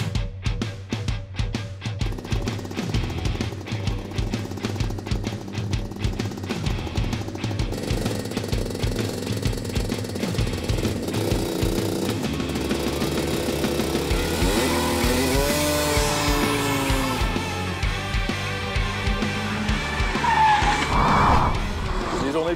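Engine noise from a MINI Clubman S during a 0-100 km/h acceleration run, loud and continuous for over twenty seconds, with rising tones as the car climbs through the gears.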